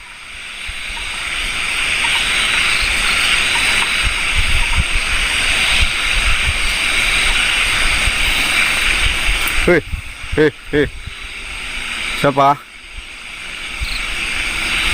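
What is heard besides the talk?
strong wind blowing at a campsite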